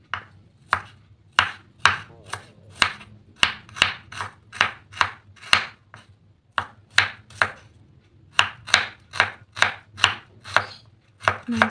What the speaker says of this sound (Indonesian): setelah itu kita iris bawang merahnya